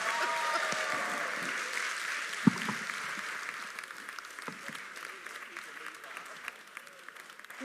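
An audience keeps clapping to welcome tennis star Leander Paes onto the stage, a broad steady ovation that slowly fades, with a few louder knocks and murmured voices mixed in beneath.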